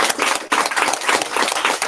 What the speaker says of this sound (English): let's give them another great round of applause